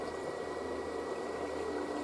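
A Minecraft waterfall gives a steady, even rushing hiss of falling water at moderate level, continuous and alone with no talking.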